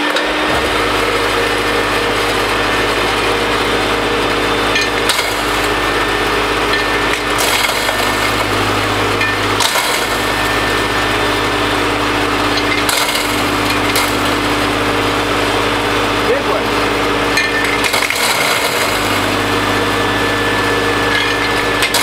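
A home-made ore crushing mill grinding rocks, a loud continuous mechanical roar with a steady hum, broken by several brief dips and jolts as chunks of rock are crushed.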